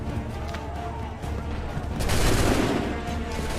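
Musket volley in Assassin's Creed 3, heard as a muffled, rumbling burst of massed gunfire over a noisy battlefield background, swelling louder in the second half.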